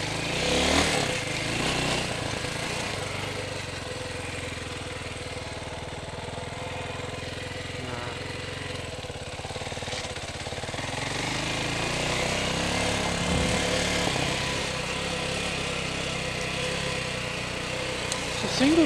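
A Chinese TDR 300 dirt bike engine roars steadily and loudly on single track and fire trails, the rough droning note rising and falling with the throttle.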